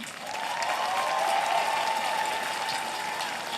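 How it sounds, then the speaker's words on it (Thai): Applause from an audience at a Thai political party gathering, a dense continuous wash of clapping swelling and holding steady for a few seconds, with no voices. "ขอเสียงปรบมือดังๆให้กับคุณปฏิพัฒน์ได้ไหมคะ"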